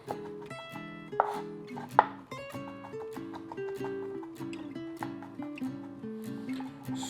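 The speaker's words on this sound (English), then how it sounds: "we're just going to give it a quick mince" A kitchen knife quickly minces an ingredient on a cutting board for broccoli cheddar soup. Quick, uneven chopping taps sit under steady background music, with two sharper, louder knocks near the start.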